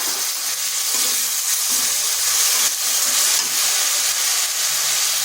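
Tomato paste sizzles in a hot pan with spices and chilli powder for a soy chunk and egg dish, a steady close hiss and fry running alone throughout.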